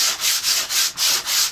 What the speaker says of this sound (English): what I do is wrap it around with some sandpaper, and really simple, and go